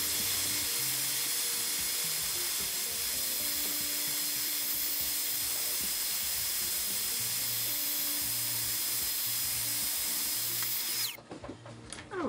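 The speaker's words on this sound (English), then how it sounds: "So we're going to sand that down just to be nice and safe." A power tool sands down sharp glass edges on resin statuettes, whirring in a loud, steady grind for about eleven seconds before it cuts off abruptly.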